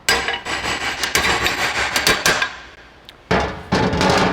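A heavy hammer pounds on a smaller hammer set inside a Toyota wheel hub to drive it out of a press-on wheel bearing, giving a run of sharp, loud metallic blows close by, then a pause and more strikes.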